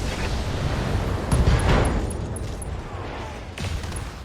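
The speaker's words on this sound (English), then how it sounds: "Ammo explosion. The SRM ammo blew up." In the BattleTech video game, an SRM ammo store detonates as a rumbling explosion that swells and rolls on over several seconds, loud and dense, with a later secondary burst.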